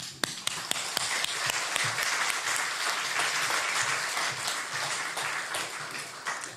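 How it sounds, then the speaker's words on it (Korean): A church congregation applauds warmly to welcome a pastor to the pulpit at a Sunday service, a steady wash of many hands clapping with a few sharp claps standing out near the start, no voices. "여러분 따뜻한 환영의 박수 해주시기 바랍니다"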